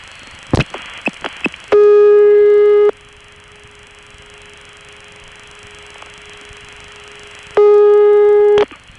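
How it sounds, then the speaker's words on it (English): Several sharp clicks lead into a loud buzzy ringing signal from a telephone trunk in Mexico, dialed from a coin phone, that stops, leaving a faint steady hum, then the loud tone returns for about a second. "Then you'll hear the trunk in Mexico going back into a ringing mode."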